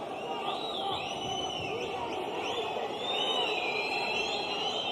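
A packed arena crowd at an Eagle FC MMA main event roars in a steady, loud wall of cheering and hubbub, swelling slightly midway, with whistles and shouts rising above the din.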